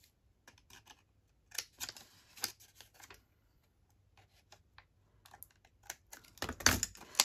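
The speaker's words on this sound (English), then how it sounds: "is cut out my little corners there. And I'll cut them at an angle" Scissors snipping at an angle across paper corners while making library card pockets, a series of short crisp cuts in irregular bursts, close and fairly quiet, with the busiest snipping near the end.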